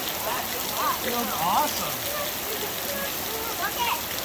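Big raindrops falling outdoors in a summer downpour, a steady hiss of rain on surfaces with scattered louder drops, while a person speaks briefly over it.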